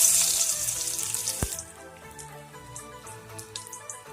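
Garlic hits hot oil for a soya Manchurian stir-fry with a loud crackling sizzle that eases into a steady, quieter frying hiss, marked by a sharp clack midway.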